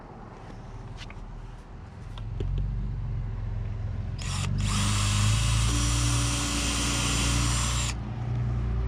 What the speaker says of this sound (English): So why don't we drill a hole here and on the other side and just put a couple screws.